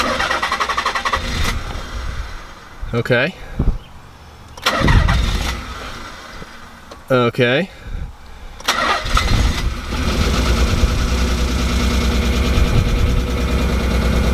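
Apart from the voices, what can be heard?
car engine starting and idling roughly after retiming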